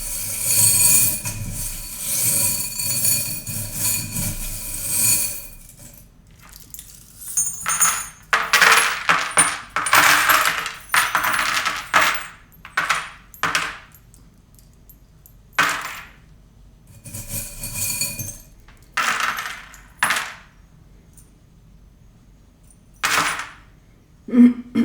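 Small metal charms used for divination clink and jingle as they are shaken and cast, giving irregular bursts of bright rattling and tinkling, some close and loud, separated by quiet gaps.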